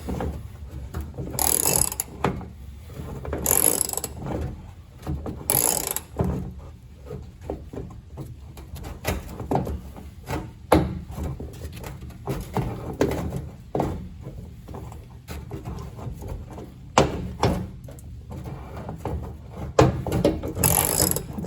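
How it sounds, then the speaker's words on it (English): A hand ratchet working stiff, penetrant-soaked gas tank bolts on a 1967 Cadillac, with repeated bursts of rapid clicking and clunks of the tool and metal, close and fairly loud throughout. "I don't know why I'm using a ratchet."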